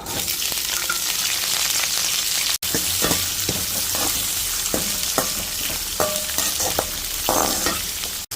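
Sliced onions, green chillies and curry leaves frying in oil for tomato rice, a steady close sizzle with repeated scraping stir strokes throughout, briefly cut once.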